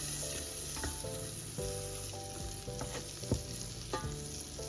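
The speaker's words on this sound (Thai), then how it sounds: "ใส่เนยลงไป 30 กรัมพอนะคะ" Butter melts and sizzles in a pot over medium heat at the start of a cream of mushroom soup, a constant crackling fry close by with occasional soft stirring knocks, no talking.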